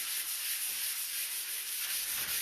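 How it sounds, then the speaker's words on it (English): Light hand sanding of a desk finish with a 220 grit sanding pad, a soft steady rubbing hiss with gentle back-and-forth strokes, close and quiet, no talking. "I recommend a light sanding like this in between each coat"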